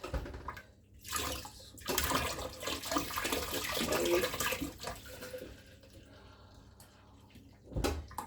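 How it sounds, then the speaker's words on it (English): Hot water poured a little at a time while preparing steamed moi moi, a steady rushing trickle near the mic that rises and falls over several seconds with brief bursts and no talk. "I'm gonna use a bit of hot water"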